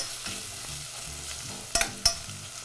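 Onion and shaved raw garlic sizzle softly in a pan, a steady low frying hiss broken by a couple of brief clinks of stirring near the end; quiet and close, with no talking.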